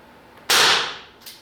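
A SixNeedler fires a needle into a coconut: one sharp, bright snap that decays over about half a second, followed by a faint second tap.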